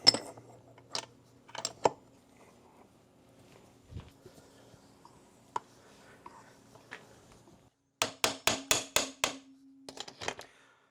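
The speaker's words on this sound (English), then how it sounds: "we're going to tap on the back of the case a little bit as we pull this in" Sharp taps strike the case of a locked-up Honda CRF250R engine as it is pulled in: a few scattered knocks, then a quick run of about six close, crisp raps, with quiet gaps between.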